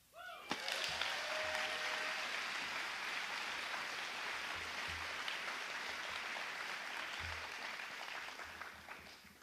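Sustained audience applause at a live poetry event fills the space, a dense wash of clapping that swells quickly after a sharp start and holds steady at a moderate distance for several seconds before easing slightly.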